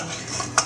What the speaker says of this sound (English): I will finish mashing them more and mixing them properly in there